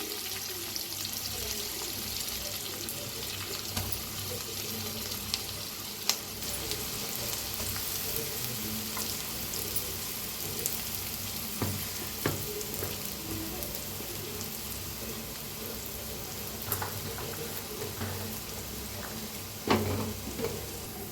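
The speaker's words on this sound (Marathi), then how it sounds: "आता ह्याला भाजून घेऊया।" Green chilli paste and curry leaves frying in a pan, a low, steady sizzle running throughout with occasional soft stirring clicks, fairly quiet and with no voices.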